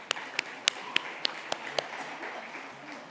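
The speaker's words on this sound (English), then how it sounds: "let's give her a round of applause" A small audience claps for a speaker at a Saskatchewan First Nations energy and leadership summit: about seven distinct, fairly faint claps in an uneven rhythm that trail off into quiet room tone.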